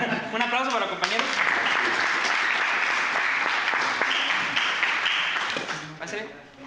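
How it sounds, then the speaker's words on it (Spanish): A classroom audience applauds classmates after a presentation on transformer classification, with dense, sustained clapping that fades out at the end and a voice speaking briefly at the start. "Un aplauso para los compañeros"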